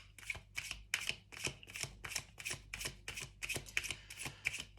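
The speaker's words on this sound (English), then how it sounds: "Let's pull another card." Tarot cards are shuffled by hand in quick repeated riffling bursts, about a dozen crisp rustling strokes in an even rhythm, close and fairly quiet with no talking.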